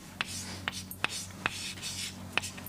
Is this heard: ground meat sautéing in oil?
no